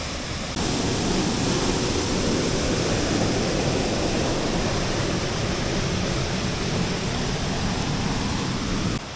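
Water rushes in a constant roaring wash from Vattayi waterfall in Thrissur, pouring down nearby, loud and unbroken throughout.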